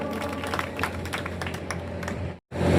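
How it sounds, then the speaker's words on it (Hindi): An audience claps to welcome former student union president Dalveer Bijarniya to the stage at a BJP political gathering. The applause is steady and fairly loud, then cuts off abruptly just before the end. "जोरदार तालियों से"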